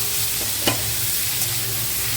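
Fried taro pieces stirred into masala in a pan give a steady, close sizzle throughout, with a couple of soft spatula scrapes rising briefly above the frying hiss.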